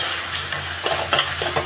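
Onions and cumin seeds frying in hot oil in a pan while being stirred, with a steady close sizzle broken by a few scraping stirs.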